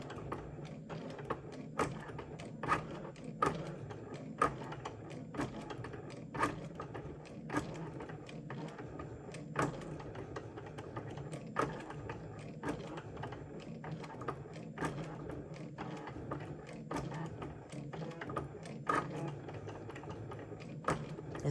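A craft cutting machine writes a message onto a denim pocket card, giving steady mechanical whirring with a regular series of sharp clicking pen strokes and carriage ticks, continuous and fairly quiet, with no talking.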